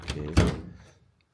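A stuck door on an abandoned car in Japan is tugged at: two dull, hollow thunks close together, the second louder, then a quick fade to quiet.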